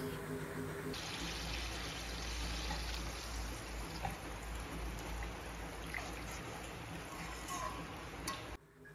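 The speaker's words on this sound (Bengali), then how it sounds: "বাইরে কিন্তু খুবই বৃষ্টি হচ্ছে, এই জন্য বৃষ্টির আওয়াজটা খুবই শোনা যাচ্ছিল" Heavy rain falling outside, a dense continuous hiss of water and drops heard from indoors, fairly faint and steady for several seconds before cutting off near the end.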